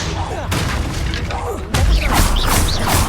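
The Confringo blast spell goes off in Hogwarts Legacy combat: a loud burst with a sudden heavy booming jump partway through, layered with crashing game effects and voices.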